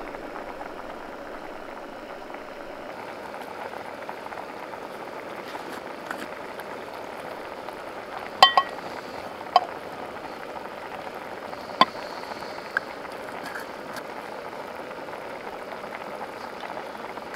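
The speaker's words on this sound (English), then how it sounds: "Coffee water's at a nice simmer" Pot of coffee water at a gentle simmer on a stove, a soft continuous bubbling hiss with a few sharp ticks and pops, steady and close without any talk.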